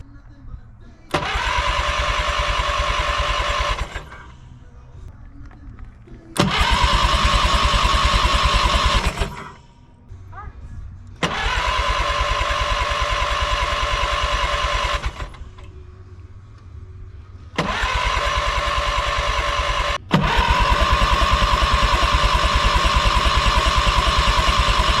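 A Minneapolis Moline 335 tractor engine under restoration cranks and catches in several bursts, running loudly for a few seconds each time and stalling between tries before settling into a sustained run, with voices talking in the gaps.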